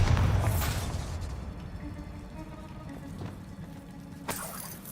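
A Bombarda spell explosion in the Hogwarts Legacy video game, a loud burst at the start that decays into rumbling debris, followed by a few fainter pops and a sharp crack near the end.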